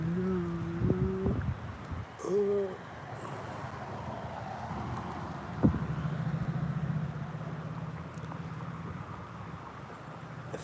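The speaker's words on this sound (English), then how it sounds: "I think that whitey is the loud truck that I hear over there at sync." A loud truck rumbles far off down the street as a low, steady engine drone under faint traffic and outdoor ambience, with a brief thump partway through.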